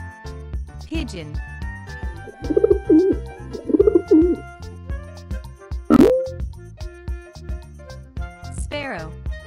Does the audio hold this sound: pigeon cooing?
yes